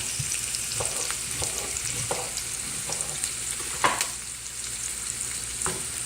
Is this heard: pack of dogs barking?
no